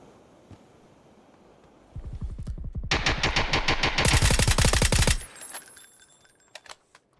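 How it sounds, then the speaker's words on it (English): Full-auto bursts from a VSS rifle in PUBG, fired into smoke during a custom match: a rapid, loud stream of shots lasting about three seconds, followed by a few scattered faint clicks and pops. "VSS full auto into the smoke."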